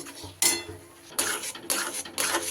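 Chhena is stirred continuously in a pan for sandesh, heard as a few distinct scraping strokes of a utensil against metal, close and fairly loud, with quieter gaps between them.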